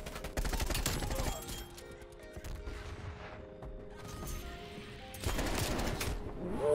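Gunfire in Call of Duty Black Ops Cold War, pistol shots included: sharp crackling reports bunch together at the start and again near the end, with quieter game noise in between. Overall fairly soft.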